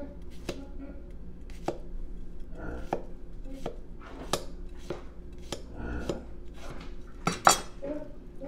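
A knife slices a cucumber into a spiral, cutting down to chopsticks laid alongside it: a steady run of crisp, close chopping taps on a board, roughly one every half second, with no voices.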